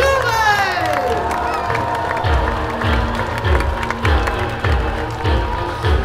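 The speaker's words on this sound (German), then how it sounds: "Und ihr jubelt euren Rittern zu" A crowd cheers and shouts for the knights at a medieval tournament show at Erlebnispark Schloss Thurn. The sustained, dense roar carries over steady rhythmic low thumps, with a voice rising above it.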